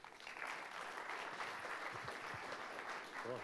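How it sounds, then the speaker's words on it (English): Audience applause welcoming a university entrepreneurship lecturer to the stage, steady clapping from a room of people at moderate distance, with a few brief voice sounds near the end. "Let's give him a big round of applause"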